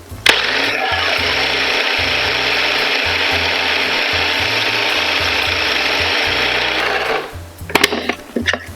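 Classic pesto with a little extra salt being blended, a loud, close motor whir with a pulsing mechanical rattle that runs steadily for about seven seconds, then stops, followed by a few clatters.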